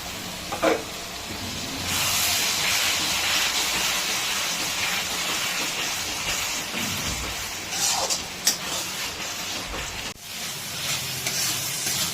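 Spice-rinsing water hits frying ginger-garlic paste for a chicken curry, bursting into a loud steady sizzle and hiss that carries on for several seconds with occasional stirring clinks.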